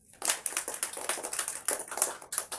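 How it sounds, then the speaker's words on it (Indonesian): A classroom of pupils claps for a classmate, giving a quick, uneven patter of many small hands that rises sharply and keeps going in irregular bursts, close and fairly loud, with no talking. "Tepuk tangan dulu untuk Antonius."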